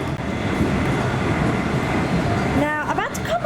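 A Comeng electric suburban train running from Sunbury toward Footscray gives a steady rumbling roar of wheels and motors, with a brief rising whine and squeal near the end.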